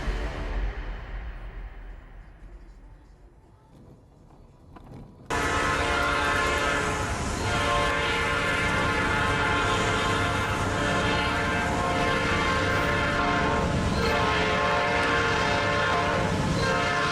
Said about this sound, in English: As the train passed, it looked like it was just a few centimeters away.